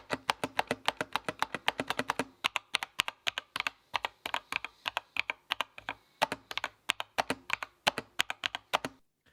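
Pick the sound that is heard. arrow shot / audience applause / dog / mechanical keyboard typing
mechanical keyboard typing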